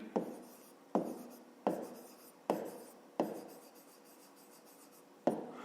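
Pen or pencil writing out a maths solution by hand on paper, close scratchy strokes in six short bursts separated by brief pauses, with no talk over them.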